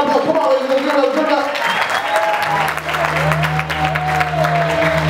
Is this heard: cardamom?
no